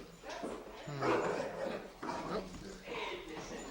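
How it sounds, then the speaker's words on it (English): Dogs barking and yipping in the background of an indoor conversation, a few short bursts mixed under and between people talking. "Dogs are barking in the background."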